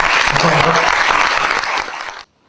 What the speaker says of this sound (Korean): 무대에 나오실 때 큰 박수로 환영해 주시기 바랍니다